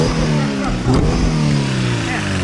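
A car engine revs up and down nearby, its pitch sliding as the throttle changes, while people talk over it.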